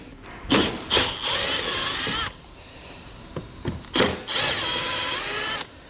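A power drill fitted with a T30 Torx bit backs out fasteners on a 2014 Volkswagen Jetta, in short whirring bursts that rise and stop, separated by quiet pauses.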